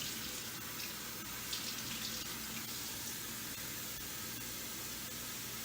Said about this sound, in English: Run under cold water, get all the excess blood off.